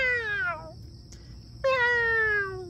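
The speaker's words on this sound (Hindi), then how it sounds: "म्याऊ बिल्ली आ गई" A domestic cat meows twice, loud and close: a long, drawn-out call, a short pause, then a second long meow.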